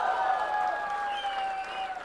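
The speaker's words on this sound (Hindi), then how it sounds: "ज़ोरदार तालियों के साथ" An audience claps for poet Shakeel Azmi at a grand mushaira during Sahitya Aaj Tak 2025, steady applause under a sustained tonal musical note.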